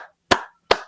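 Two sharp, close hand claps, evenly spaced and isolated in near silence.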